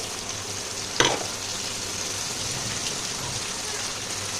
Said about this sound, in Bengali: তো এইবার ভালো করে একটু নাড়িয়ে দেব